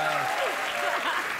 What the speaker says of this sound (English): Sometimes when the audience feels sorry for me, they applaud.